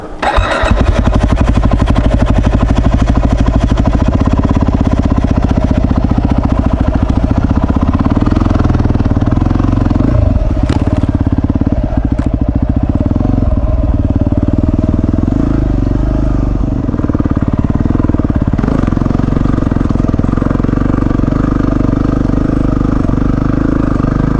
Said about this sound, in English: I'll try and get my bike started.